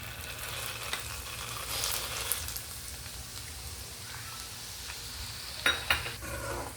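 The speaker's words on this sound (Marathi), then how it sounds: "आता आपण हे डाळ जे आहे ते तेलामध्ये खरपूस भाजून घेऊयात." Dal (lentils) frying in hot oil for khamang chivda, a steady low sizzle with faint crackles and a couple of sharper stirring scrapes near the end.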